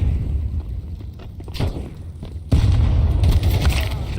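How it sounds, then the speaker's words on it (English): Grenade explosion in CS2, a deep booming blast that swells sharply partway through and lingers in a rumbling, crackling tail. "Grenade."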